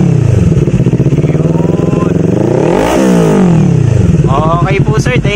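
Kawasaki Ninja 400 fitted with an Akrapovic R11 exhaust and no silencer revs loudly up close, the engine note sweeping up and falling back, then climbing again in a second blip.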